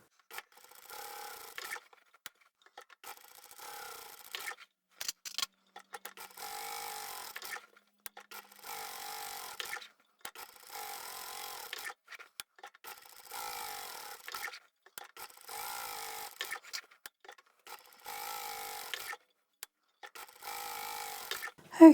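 Sewing machine fitted with a Teflon foot quilting fabric in repeated short bursts of rapid stitching, separated by brief pauses, close and moderately loud.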